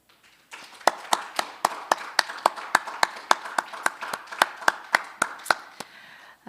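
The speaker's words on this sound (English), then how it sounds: "I'd like to ask all of our attendees to join me in a round of applause for our two terrific speakers, Drs. Park and Dr. Lee." Attendees at a medical scientific convention in Seoul give a round of applause for two speakers, though the sound is a sparse, steady clapping of distinct individual claps at an even rhythm, fairly close, with no talk over it.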